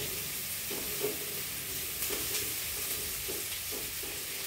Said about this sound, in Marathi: बघा, कांदा चांगला परतला झालाय